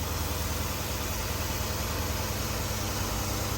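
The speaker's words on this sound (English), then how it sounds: "We're gonna let the engine idle a little bit here longer" A Jeep Grand Cherokee SRT engine fitted with a K&N cold air intake idles steadily with a low, throbbing rumble and faint vibration, constant and unbroken, with no voices.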